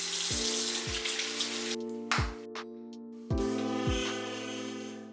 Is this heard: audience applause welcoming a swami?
no